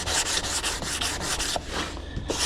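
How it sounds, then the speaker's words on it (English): Steady rhythmic rasping of a sanding block rubbed back and forth over a wooden cabinet drawer front, close and fairly loud, strokes repeating about every quarter second. "take my sanding block"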